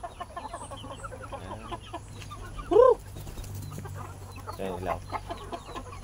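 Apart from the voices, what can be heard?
native chickens clucking in a chicken coop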